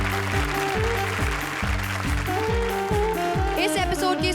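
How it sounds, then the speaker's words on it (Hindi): A studio audience at a comedy show applauds loudly and steadily, a dense wash of clapping under a strong, pulsing music track. "जोरदार तालियां हमारी चारों जोड़ियों के लिए"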